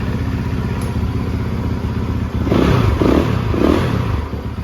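A 2013 Yamaha YZ450F dirt bike engine runs close and loud at a steady idle, then revs up in three quick blips.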